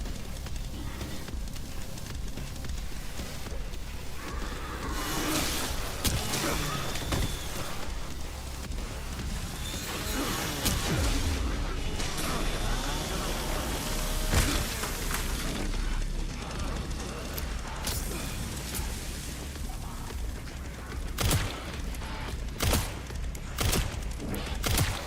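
Fire and repeated explosions tear through a gas station in Resident Evil 9, a dense, continuous roar broken by frequent cracking bangs and thuds, loud and chaotic throughout.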